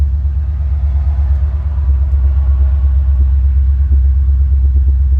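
A 1940 Chevy truck V8 with dual quads idles steadily close by, a deep even rumble with a faint rhythmic lope and no voices.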